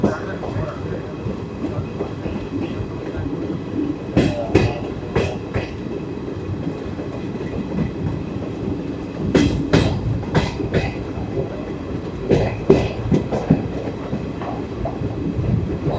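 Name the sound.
Netaji Express train running, arriving at Etawah station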